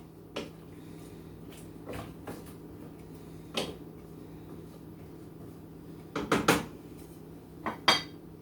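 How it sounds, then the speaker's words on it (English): Metal kitchen clatter as a lid is set on a pot of Brussels sprouts on a stovetop: scattered single clinks and knocks, then a quick cluster of rattling taps and a final clang, close and fairly quiet. "And a lid. The lid on my Brussels sprouts."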